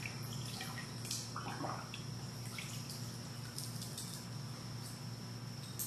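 Fired brass cartridge cases being swished around in rinse water after black powder shooting, a steady wet sloshing with faint metallic clinks and splashes under a constant background hum.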